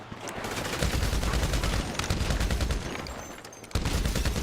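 Sustained gunfire from a GTA Online heist firefight, dense overlapping bursts that run loud and continuous, briefly dip, then surge again near the end.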